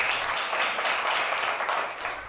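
Classroom of children aged 6 to 11 clapping along together, a brief, dense patter of many hands at a steady level.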